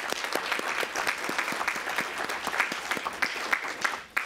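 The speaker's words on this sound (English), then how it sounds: "join me in giving them all a round of applause" Audience applause at the Women's Foundation of Arkansas Olivia Farrell Gender Equity Award event, a steady wash of many hands clapping throughout, fairly distant and moderate, tapering off at the very end.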